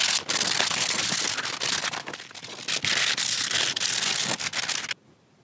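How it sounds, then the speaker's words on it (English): Light hand sanding of a painted 1967 Jaguar E-Type rear suspension part with 320 grit paper, a close, steady rasping scrub in quick back-and-forth strokes that stops abruptly near the end. "let's give it a go at just giving a light sand just to key up the surface a bit."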